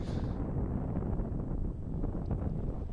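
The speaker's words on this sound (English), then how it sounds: "You can hear the wind whipping through." Wind gusting across an open disc golf course during a championship final round, a steady broadband rush that stays loud and continuous throughout.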